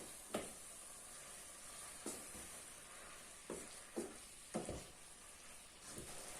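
Meat filling for an empadão sizzles in a pan before tomato pulp goes in, a steady frying hiss broken by periodic bursts as a spoon stirs and scrapes through the mixture.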